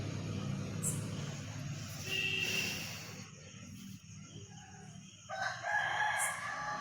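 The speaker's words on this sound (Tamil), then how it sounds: "இப்போவும் பாருங்களேன், அந்த சேவல் கூவிட்டே தான் இருக்குது" A rooster crows at dawn near a temple, a faint, fairly distant call rising twice over quiet morning ambience with soft background murmur.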